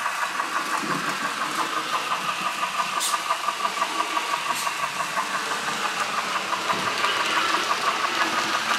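A Broadway Limited Imports PR1a model steam locomotive runs steadily around a tight-radius inner track, giving a continuous close mechanical whir with a fast, even chuffing pulse and a couple of brief bright clicks.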